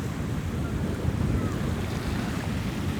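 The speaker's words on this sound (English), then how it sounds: "with this wind, it's gonna be kind of chilly out there" Wind gusting over the microphone at a Coco Cay beach in December, with ocean surf rolling underneath in a loud, steady, rumbling wash, no speech heard.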